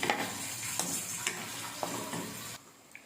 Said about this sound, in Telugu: ఇప్పుడు ఒకసారి తిప్పుకుందాం